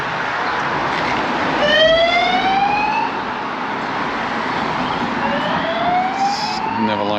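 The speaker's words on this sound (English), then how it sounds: "Never like to see that ambulance dashing to some emergency." An ambulance siren wails past on a street in Palmanova, Mallorca, its rising and falling tones repeating loudly over traffic noise, nearby and clear.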